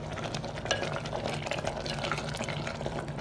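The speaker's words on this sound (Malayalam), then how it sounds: "കുറച്ച് വെള്ളം ഒഴിച്ചു കൊടുക്കുക" Water is poured into a simmering, thickened prawn curry, with soft gurgling and liquid splashing as the contents are stirred.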